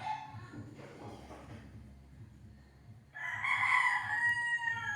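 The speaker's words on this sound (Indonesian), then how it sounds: "Maaf ya suara-suara ayam ya." Chickens and roosters in a yard, a crow rising partway through and becoming loud and shrill near the end, with low clucking and background murmur underneath.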